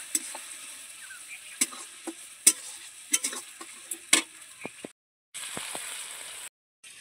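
Boiled chickpeas are stir-fried with yogurt in a pan, heard as a low sizzle under irregular clicks and scrapes of stirring. The sound cuts out briefly twice.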